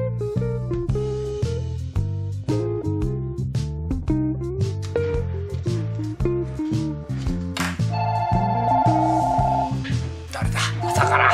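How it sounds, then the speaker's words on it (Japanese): A telephone rings with a melodic tone at a rice-cake and sushi shop before 8 a.m., playing a long run of tuneful notes that continues for over ten seconds without talking. "まだ8時前やけど店開けてくれって電話がかかってきた。"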